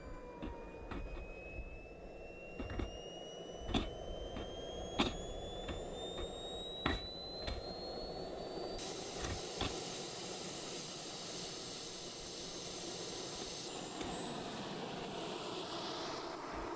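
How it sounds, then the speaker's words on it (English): The small jet turbine of an RC jet car spools up on its first run-up with a rising whine that climbs steadily to a high pitch, punctuated by sharp clicks and pops. "it was now time for the first engine run-up"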